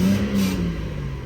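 A 2009 BMW 328i xDrive with the N52 engine and no exhaust fitted revs briefly, a loud, close, rough engine note that rises and then settles within about a second.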